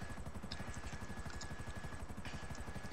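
A helicopter in GTA Online whirs with a steady, rapid rotor chop under a constant engine drone, loud and close throughout with no talk.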